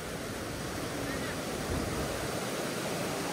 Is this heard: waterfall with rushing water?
yes